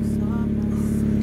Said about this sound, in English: this is the sound of the car